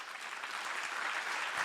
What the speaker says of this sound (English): I would like us to offer a better round of applause to our panelists.